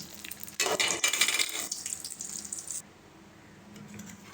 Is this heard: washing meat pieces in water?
yes